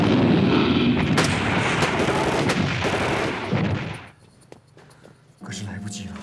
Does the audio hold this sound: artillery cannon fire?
yes